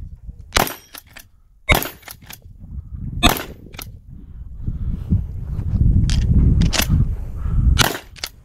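Sharp gunshots at a 3-Gun shooting competition ring out in separate loud cracks at irregular intervals, about seven in all, over a rumbling low background.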